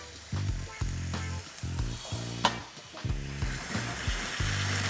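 Clams and white wine sizzle loudly in a hot pan for linguine alle vongole, a steady close frying hiss with bubbling, alongside some background music.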